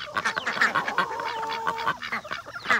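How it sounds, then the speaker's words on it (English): A backyard flock of ducks kept alongside chickens, quacking nearby in quick, overlapping bursts and honks that run steadily through the moment. "We now have almost as many ducks as we do chicken."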